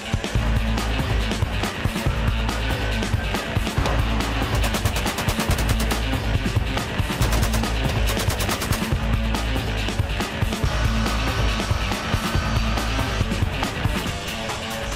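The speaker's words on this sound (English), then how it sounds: "Fired tear gas and stun grenades." Tear gas and stun grenades are fired during a roughly 30-hour police standoff, heard as a dense, loud barrage of rapid cracking bangs and rattling bursts over chaotic background noise, continuing without letup.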